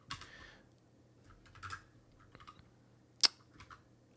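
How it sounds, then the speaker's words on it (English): Scattered keystrokes on a computer keyboard during a coding session, a few soft clicks and one sharper tap, fairly faint over quiet room noise with uneven pauses between presses. "yeah, I can type"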